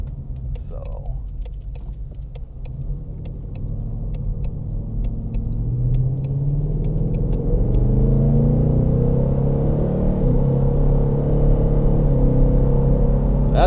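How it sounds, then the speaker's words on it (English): A car with a supercharged Ford Coyote 5.0 engine accelerates at half throttle, a loud, steady low rumble whose pitch climbs smoothly through the run, heard from close by, with a few light clicks early on. "that's very moderate acceleration and already exceeding the speed limit. I mean, that was maybe half throttle."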